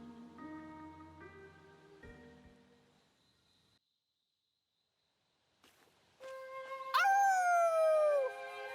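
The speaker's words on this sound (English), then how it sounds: "I wish you wouldn't do the whole howling thing." A character in Fire Emblem Engage gives a wolf-like vocal howl, a long rising then falling tone that stands alone after a quiet pause, following faint earlier game music.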